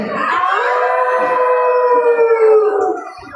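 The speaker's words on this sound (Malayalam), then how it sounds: "ഒരു പറ്റം കുറുക്കന്മാർ ഓരിയിടുന്നത് കേട്ടത്" Jackals howl together in one long, wavering cry, loud and close, sliding down and fading into silence.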